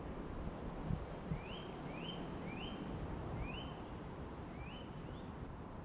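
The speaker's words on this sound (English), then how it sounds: "I can hear birds making some noises." Birds calling outdoors among trees, a faint series of five or six short rising chirps spaced about a second apart over a steady hiss of ambient outdoor noise, with a couple of soft knocks early on.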